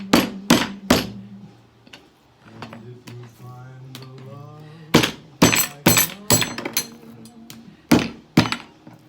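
Chuck steak pieces pounded flat for beef cutlets, a series of loud, sharp thuds in irregular clusters, with a stretch of talking in between.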